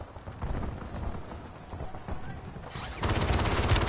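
Video game gunfire rattles at low level at first, then erupts into a louder, denser burst of rapid shots near the end, amid a busy combat background.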